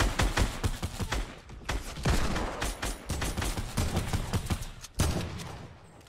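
Rapid gunfire in the video game Fortnite, dense close bursts of sharp shots in quick succession, briefly pausing before another loud volley near the end.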